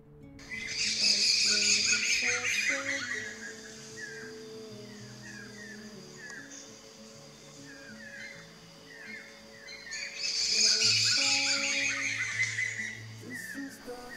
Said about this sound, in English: met a laughing thrush.